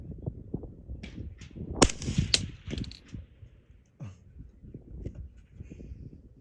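A single sharp crack from an MK 12 Mod 1 rifle firing 5.56 at a target roughly 850 yards away, close and loud, followed by a brief ringing tail and then low outdoor rustling and handling noise.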